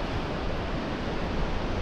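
Waves wash over a rocky beach in North Goa, a steady broadband rush of surf heard at a distance with a little wind, no voices.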